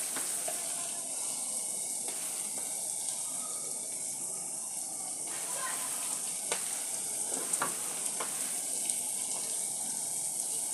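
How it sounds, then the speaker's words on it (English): Meat frying with garam masala in a pan gives a steady sizzle, with scattered spoon clicks and scraping as it is stirred. "And I will mix my meat"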